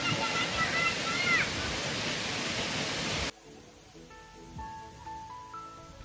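Gerojogan Sambeh Yehpoh waterfall with its clear river flowing below: a loud, steady rush of falling water for about three seconds, then a sudden drop to a softer, quieter flow with faint higher tones.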